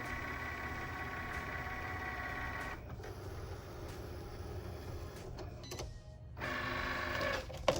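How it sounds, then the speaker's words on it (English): A Cricut Explore Air 2 cutting machine makes a confirmation cut around a rectangle on a calibration sheet, a faint, steady motorized whir with short pauses and shifts as the carriage moves. "Now it's going to do a confirmation cut. So it's going to go around that rectangle in the middle."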